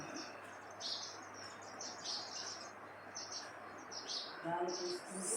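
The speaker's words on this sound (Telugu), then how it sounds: "వాస్తవంగా ఈ వీడియోలో మనకు మొదట్లో అంతా పక్షుల అరుపులు, కిలకిలలు ఇవన్నీ బాగా వినిపిస్తున్నాయి అన్నమాట." Birds call and chirp outdoors in short, repeated bursts, faint and somewhat distant over a quiet background hiss.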